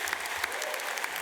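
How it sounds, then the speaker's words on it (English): Graduates at a university graduation ceremony giving themselves a round of applause, a dense, even patter of many hands clapping at a moderate distance with a few sharper claps poking through. "Give yourself a round of applause."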